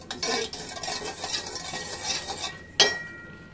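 Spoon stirring and gentle scraping in a pot of simmering tea with clove, bay leaf and ginger as sugar is added, a steady soft bubbling hiss ending in one bright metallic clink.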